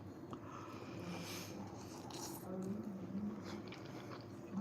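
Soft, close chewing of a mouthful of bison stir fry with noodles, broccoli and spinach: quiet, irregular moist munching under faint room noise.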